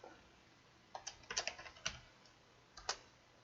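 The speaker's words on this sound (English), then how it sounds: "I'll type it." Keys on a computer keyboard tapped in short irregular bursts, a few quick clicks clustered together then a pause and a final keystroke, close and fairly quiet in an otherwise still room.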